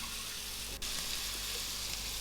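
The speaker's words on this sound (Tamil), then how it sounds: "அடுத்த இதில் நம்ம காய்கறிகள்லாம் சேர்த்துடலாம்" Carrot and bean pieces sautéing in a pan for brinji rice, a steady close sizzle with one brief clatter near the start, then an even hiss, no speech.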